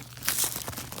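Plastic shrink wrap crinkles close by as a Chicago studio albums box set is unwrapped, a short burst of crackling rustles with no speech.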